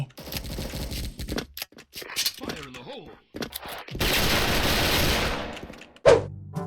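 Bursts of gunfire and grenade explosions from an online shooting video game, with rapid crackling shots and a longer dense blast. A loud thud comes near the end, and a voice reacts in between.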